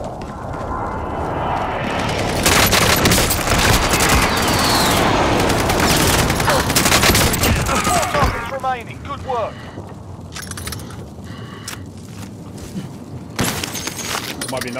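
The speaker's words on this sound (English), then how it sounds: "Taking direct fire. We're getting shot at." Video game gunfire crackles in dense, rapid bursts and volleys, like a firefight close by, with scattered single shots and chirping effects later on. A player talks over much of it.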